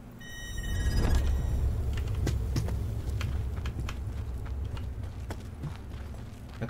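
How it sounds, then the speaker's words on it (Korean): Enemy footsteps in the Call of Duty Black Ops 4 Blackout battle royale, heard as a steady run of quick, crisp steps over a constant low rumble of game ambience. "적 발소리가 더 크게 들립니다"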